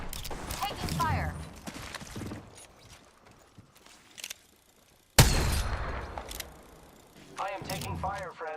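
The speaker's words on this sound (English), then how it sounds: "The enemies are shooting at me." Video game gunfire from enemies, a few sharp shots and bursts, including one loud crack partway through, mixed with game effects and a person talking over much of it.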